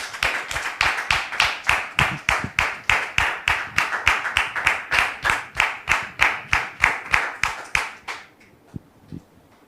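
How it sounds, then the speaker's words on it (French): Audience at a church gathering claps steadily to welcome Dame Ruth, a loud, dense run of rhythmic hand claps that fades out near the end. "très cher public, Dame Ruth, sous vos applaudissements"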